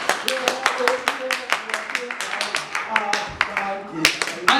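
A congregation at a thanksgiving church service claps together in a quick, steady rhythm, with the sharp claps ringing over voices and tonal sounds underneath.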